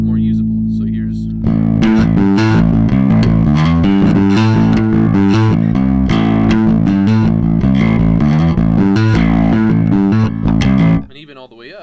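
Bass guitar played through a modded Boss DS-1 distortion pedal, a loud, saturated, fuzzy tone with a steady run of picked notes and chords that stops abruptly near the end.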